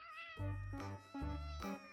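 A cat outdoors for the first time and stressed gives two close, loud, drawn-out meows with nothing else around them.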